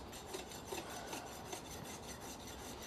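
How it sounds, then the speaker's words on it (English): A farrier's rasp files down the nails holding a starter pad on a horse's hoof, giving a steady gritty scraping with soft repeated strokes, fairly quiet against background noise. "he's filing down the nails that hold on the starter pad"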